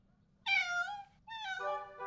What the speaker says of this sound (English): The cat is stuck on the high shelf.